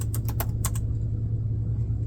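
Quick keyboard typing, a short run of crisp, close key clicks in the first second, then stopping, leaving a steady low hum underneath.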